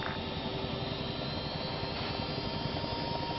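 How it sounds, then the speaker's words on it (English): A Chinook helicopter in Arma 3 drones steadily and evenly, a continuous, moderately loud rotor and engine roar with no breaks. "The Chinook you're on is the first in formation."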